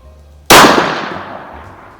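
A single sharp rifle shot from a Savage BMag in 17 WSM firing Hornady rounds at an outdoor range, loud and close, with a sudden crack followed by a decaying echo.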